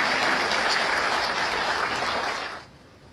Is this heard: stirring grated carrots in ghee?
no